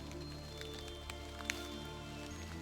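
Rain patters steadily on a wet campsite within a grove of woodland trees, a soft continuous hiss of drops with a few sharper taps, faint and without voices.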